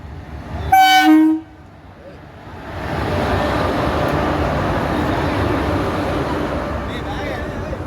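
A train horn blares loudly for about a second, then the steady rumble and clatter of a passing train builds and continues close by.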